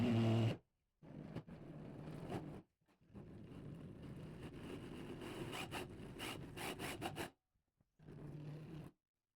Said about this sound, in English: I have some sheet aluminum here, which I'll use a hole saw to drill out for our fuel pump hanger